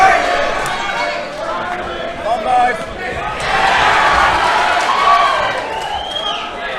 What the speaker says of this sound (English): you can hear the volume in the crowd's definitely stepped up